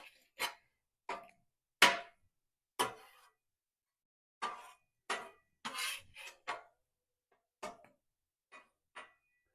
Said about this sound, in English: And we're going to flip our Spam.